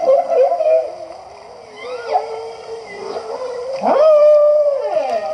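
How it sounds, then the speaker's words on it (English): Humpback whale song: long, wavering moaning calls that swoop and slide in pitch, with a deep rising upsweep near the end, loud and continuous with no talk. "Now this is a humpback whale sound."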